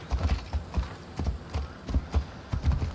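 Horse hooves clip-clopping at a steady trot while riding in Assassin's Creed Odyssey, a rhythmic series of soft, close thuds over a faint low hum.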